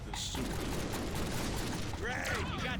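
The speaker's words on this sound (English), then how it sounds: "I ran out of ammo with my pistols and it switched me to that gun and I shot it" Gunfire in the Deadpool video game, a quick burst of rapid shots and mechanical clatter with a loud game soundtrack, and a voice briefly speaking near the start and end.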